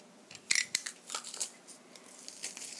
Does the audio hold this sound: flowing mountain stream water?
no